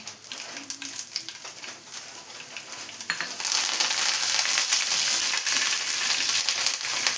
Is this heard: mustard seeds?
yes